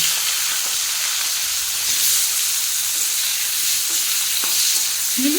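Brinjal slices frying in leftover oil for shukto, a steady, dense hiss and sizzle that runs unbroken from start to finish, close and fairly loud, with only a few faint clicks and no voices.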